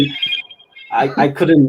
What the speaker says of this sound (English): No, that's the ringtone basically.